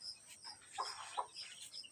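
Healthy backyard chickens cluck softly in a short burst, a few close clucks and chirpy calls rising over a quiet background.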